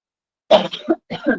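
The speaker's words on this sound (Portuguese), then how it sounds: "Desculpa aí a minha tosse." Someone close by gives a short cough with a bit of throat clearing, in two or three rough bursts.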